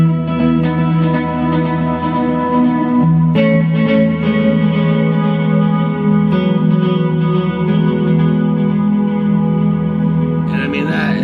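A loud, sustained electric guitar tone through a budget tube amp with Eventide reverb and delay pedals, chords ringing out and smearing together in a wide, echoing wash.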